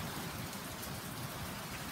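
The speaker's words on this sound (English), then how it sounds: "Yeah, look at the rain rolling." Rain falls steadily onto a street outdoors as a storm moves in, a soft, even, distant-sounding hiss of drops with no voices.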